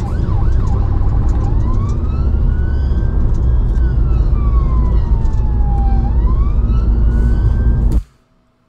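Emergency vehicle siren on a rush-hour motorway, loud and close, sweeping slowly up and down over heavy traffic noise before cutting off abruptly near the end.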